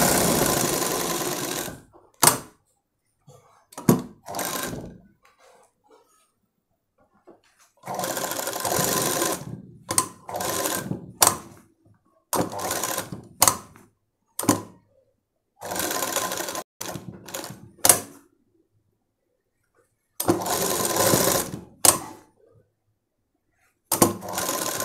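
Sewing machine stitching the lining of a Punjabi dress top, running in repeated bursts of a few seconds each, separated by quiet pauses and short clicks, close and fairly loud.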